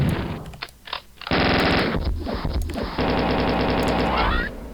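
Rapid automatic weapon fire from a Quake mod that remakes Doom, heard in two long, dense bursts of loud, close, crackling shots with brief single shots between them.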